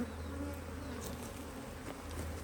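Honeybees buzz at a hive during an early spring inspection in swarming season, a steady, faint, low hum that carries on without a break.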